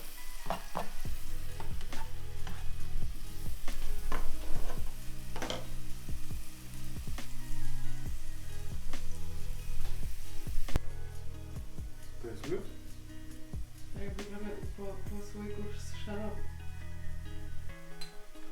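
A sweet omelette sizzles steadily in a hot pan, with occasional clinks and scrapes of a utensil as it is flipped and a voice talking over the frying.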